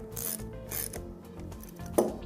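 A ratchet wrench tightens nuts on a Graco Husky 515 pump, giving quick clicking bursts of metal ratcheting close up, followed by a sharp knock near the end.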